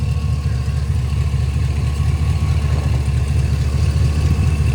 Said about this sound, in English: motor sounds fine. It don't sound any different. Still idling as smooth as glass.